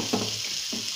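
Dried red chilli paste fries in hot oil with a continuous close sizzle, broken by two soft stirring scrapes in the pan.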